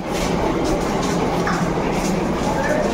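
Delhi metro train at a station, a loud, continuous rumble of rolling carriages and rail noise filling the space, with faint crowd murmur and voices blended underneath.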